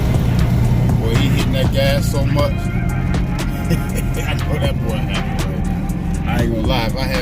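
An 1985 Oldsmobile Cutlass G-body with a swapped torque converter revving hard under throttle, a loud continuous engine roar throughout, with people talking over it.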